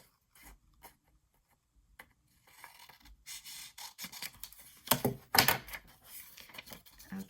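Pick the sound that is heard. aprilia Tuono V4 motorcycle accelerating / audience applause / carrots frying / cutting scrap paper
cutting scrap paper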